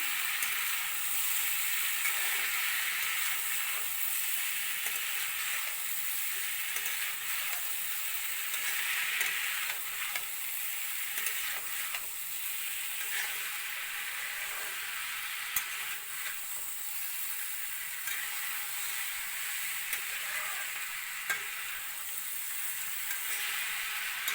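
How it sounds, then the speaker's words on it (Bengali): Jackfruit curry with onion and garlic keeps frying in the pan as it is stirred, giving a constant dense sizzle and hiss with intermittent light scraping, close up and uninterrupted by talk. "ভালো করে নাড়াচাড়া করতে লাগবে"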